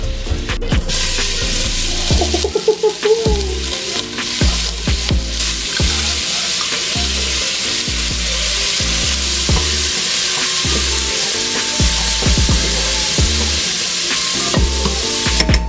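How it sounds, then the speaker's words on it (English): Chopped onion and garlic fry in melted butter in a pan, giving a loud, continuous close sizzle with repeated scraping stirs throughout. "we're gonna start building our sauce by melting 1 tablespoon of butter, and then we're gonna throw in 1 whole chopped onion"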